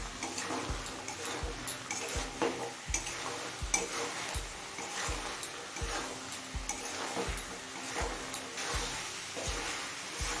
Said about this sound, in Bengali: এবার মিডিয়াম ফ্লেমে আরও কিছুক্ষণ কষিয়ে নেব।